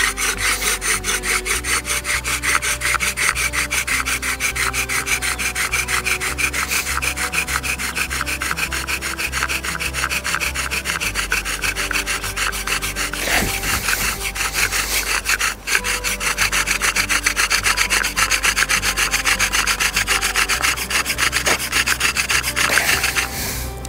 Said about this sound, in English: So that's the Prusik Knot Bow Drill.